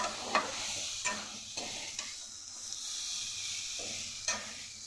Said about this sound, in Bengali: বরবটির সাথেও মশলাটাকে আরেকটু ভালো করে কষিয়ে নেব।